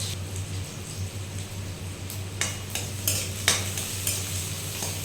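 Onions sizzling in a pan on a home stove, with steady frying hiss and several sharp scraping clicks as a utensil stirs them, close and continuous with no talk.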